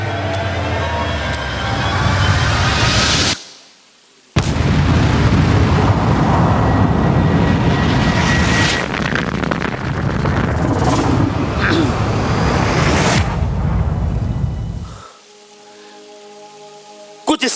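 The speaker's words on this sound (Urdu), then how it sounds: "کہ ایک دھماکہ ہوا جس کے بعد سب کچھ پھیل گیا" A Big Bang explosion sound effect roars loud and continuous in long rumbling bursts broken by sudden cuts to silence, then gives way to a softer humming tone at the end.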